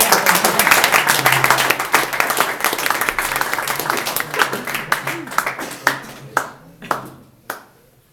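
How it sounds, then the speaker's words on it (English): Warm audience applause for a speaker at a sales session, steady dense clapping that thins out into a few scattered, louder individual claps near the end. "So give a warm applause."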